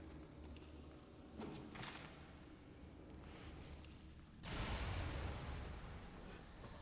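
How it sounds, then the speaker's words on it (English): A game explosion in Darksiders Warmastered Edition bursts in as a loud, broadband boom about two-thirds through, rumbling on over a busy, noisy bed of game sound with no speech. "Couldn't look at the explosion."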